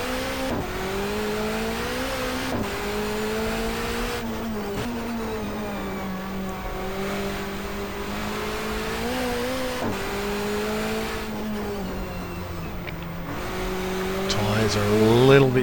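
A touring race car from the 1994 Asia-Pacific Touring Car Championship pulls hard in first gear, its engine rising steadily through the revs with brief dips at the shifts. The sound stays loud and close, with no talk over it.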